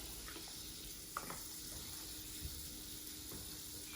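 Butter and a splash of oil sizzle in a pan, a quiet steady hiss close by with a couple of small clinks, and no talking.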